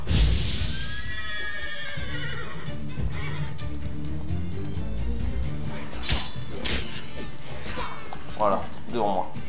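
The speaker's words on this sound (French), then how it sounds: "Ouais, c'est le cheval qui panique" A panicking horse in The Witcher 3 lets out a sharp, shrill neigh at the start, followed by combat crashes and thuds while someone talks over the game.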